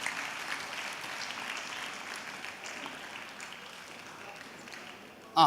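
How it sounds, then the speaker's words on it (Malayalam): Applause from a crowd welcoming a speaker at an MSF constituency conference in Pattambi, steady rough clapping held for several seconds at moderate distance, fading slightly before a brief loud bump at the end. "ഒരു നല്ല കൈയടിയോടെ നമ്മൾ ഈ സമ്മേളനത്തിലേക്ക് സ്വാഗതം ചെയ്യണം"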